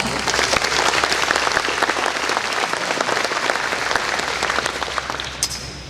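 A full room applauds student speakers at an agricultural awareness event, crisp dense clapping at close range that slowly softens toward the end.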